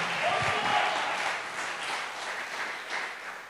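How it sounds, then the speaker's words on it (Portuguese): A church congregation claps together in a soft, steady wash during a pastor's sermon, a brief voice audible at the start as the sound carries on evenly. "Pode aplaudir o Senhor."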